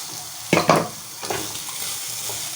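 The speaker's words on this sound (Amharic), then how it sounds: "ቅድም የጠበስነውን ፎሰሊያ እናደርግበታለን" Green beans and carrots frying in a pan over low heat while a spoon stirs them, giving a soft steady sizzle with two sharp bursts of scraping and stirring early on and a lighter stir a moment later.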